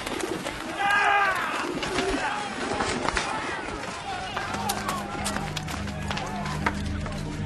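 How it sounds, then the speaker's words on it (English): Pigeons coo and flutter in a bustling temple marketplace scene, close soft calls and wing sounds mixed under someone narrating and other voices. "And he ordered those who sold pigeons"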